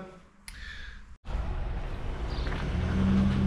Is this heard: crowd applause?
no